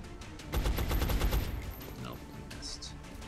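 Rapid gunfire from the XCOM Enemy Unknown game, a burst of close, punchy shots in a fast rhythm, then a few fainter electronic effects as it fades.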